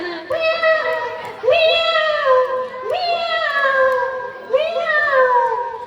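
A voice imitates a cat, giving four drawn-out meows in a row, each rising then falling, close and clear with faint chatter behind.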